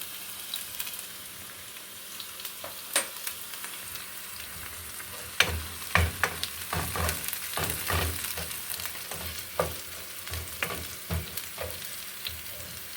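Three garlic cloves frying in a pan, a soft continuous sizzle with scattered crackles and pops and occasional stirring clatter, fairly quiet and close.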